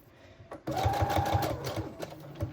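A sewing machine stitches around fabric patchwork pieces with a steady, rapid mechanical clatter lasting about two seconds. It runs close and loud after a short pause.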